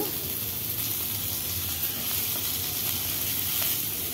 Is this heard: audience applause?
no